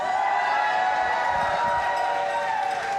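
Tournament crowd at a classic Tetris championship cheering and shouting in a steady, loud wash of many voices that holds without a break.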